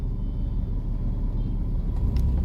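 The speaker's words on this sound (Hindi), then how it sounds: "और यहाँ पे इतना ट्रैफिक लगा हुआ भाई ना" Heavy traffic in Delhi's Nizamuddin area is heard from inside a vehicle as a constant low rumble of engines, with a few faint higher sounds near the end.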